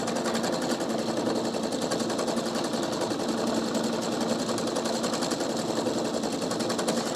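A Pfaff Quilt Expression 720 sewing machine running a continuous patchwork stitch, a steady, even, close rapid whir with no pauses or talking.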